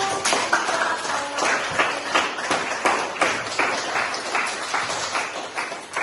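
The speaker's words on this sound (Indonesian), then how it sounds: "berikan tepuk tangan sekali lagi untuk seluruh" An audience applauds at the close of a lesson, producing a steady, fairly loud patter of many hands clapping with sharp individual claps, continuous and alone.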